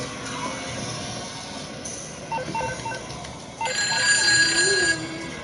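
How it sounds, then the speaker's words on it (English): A phone rings with an incoming call, short ringing bursts amid busy street-like background noise that grows louder toward the end. "I got a phone call."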